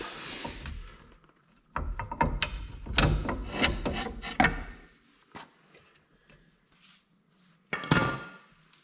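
Prying with a bar on the worn front ball joint of a John Deere Gator 620i, giving close scraping, rubbing and knocking bursts of metal on metal in a few irregular clusters, separated by quiet pauses.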